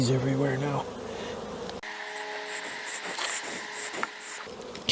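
Honey bees swarm and buzz around an opened late-season hive brood chamber heavy with syrup, a dense, steady drone close by that fills the whole stretch after a brief handling noise at the start.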